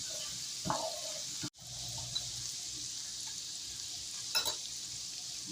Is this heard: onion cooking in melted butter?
yes